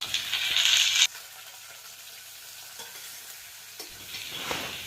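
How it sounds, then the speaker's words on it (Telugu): Onions, tomato and green chilli frying in a pan start with a loud sizzle, then settle into softer stirring and scraping with occasional clinks. "ఫ్రై చేసుకున్న తర్వాత టమాటో, గ్రీన్ చిల్లీ వీటిని కూడా వేసుకొని దగ్గరగా ఫ్రై చేసేసుకోవడమే"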